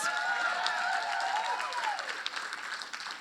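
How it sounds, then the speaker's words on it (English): Conference attendees applaud an Olympian being introduced at a keynote, a steady wash of clapping mixed with cheering voices that tapers slightly toward the end. "That alone deserves a round of applause"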